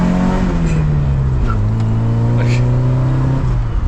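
The engine of an abandoned Toyota AE86 that is being revived revs loud and close, its pitch sliding down and then holding at a steady, strained drone.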